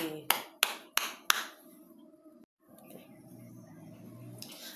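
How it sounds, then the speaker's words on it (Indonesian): Classroom pupils clapping for themselves: four sharp, evenly spaced claps, then a brief pause and faint room murmur afterward. "Berikan tepukan untuk diri sendiri."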